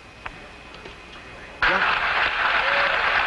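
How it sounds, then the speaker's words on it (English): A crowd aboard a recovery boat cheers and applauds after a space capsule lands, breaking out suddenly after a quiet stretch and continuing loud over a radio-like voice. "Listen to the crowd on the boat."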